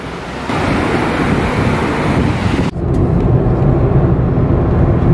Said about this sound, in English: We're about to get in the ocean for our daily bath